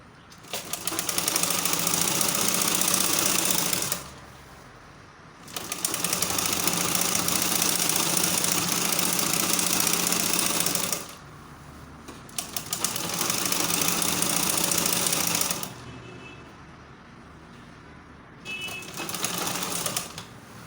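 A sewing machine runs long bursts of stitching through gown fabric to make gathering rows, its motor chattering steadily and loudly with short pauses between passes and no talk.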